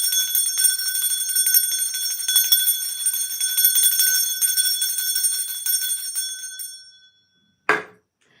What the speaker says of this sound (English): cleansing the space with sounds and bells is one of them